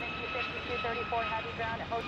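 United Airlines Boeing 757-300 at Chicago O'Hare, a steady distant jet engine roar with a high whine running throughout, under a voice talking.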